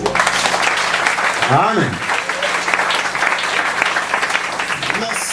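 A church congregation claps and cheers loudly throughout, a dense, steady wash of applause, with a voice briefly speaking over the crowd near the start.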